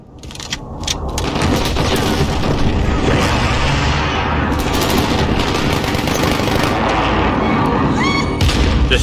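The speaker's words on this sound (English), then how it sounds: "Friendly precision airstrike on the way" Precision airstrike explosions rock a Call of Duty multiplayer match, with heavy booms and rapid machine-gun fire blending into a loud, continuous barrage, while voices talk faintly underneath.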